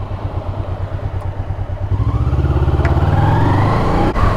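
A £100 Honda motorcycle engine running nearby, a loud, rhythmic throbbing idle that builds into a stronger revving pull partway through, with a brief clunk near the end.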